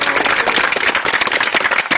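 A village gathering applauds the newly elected sarpanch of Pamadi panchayat with dense, energetic handclapping from a close crowd, steady for the whole stretch.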